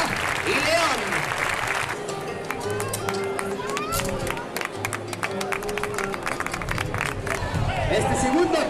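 An arena crowd at a 2012 recortadores contest in Gandía applauds and murmurs in a sustained wash of clapping, with an announcer's amplified voice talking over it and brief shouts rising at the start and end.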